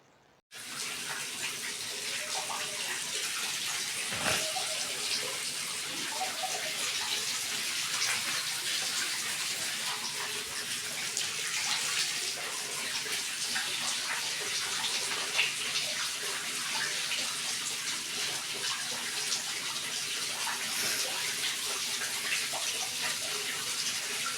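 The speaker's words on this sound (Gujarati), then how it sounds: "ફાઇનલી પાણી આવે છે ટાંકામાં" Water pours into a storage tank in hot outdoor weather, a loud, steady gushing rush that starts abruptly and keeps going without a break for over twenty seconds.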